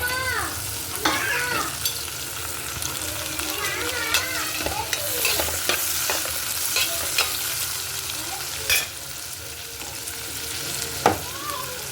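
Stirring in a pot of milk tea on the stove, with repeated scraping and clinking strokes over a soft sizzling bubble, fairly quiet and close, with no voices.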